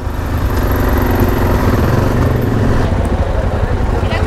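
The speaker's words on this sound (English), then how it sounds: "Two motorcycles." Loud, rough engine rumble runs steadily throughout, like motorcycles idling and revving close by.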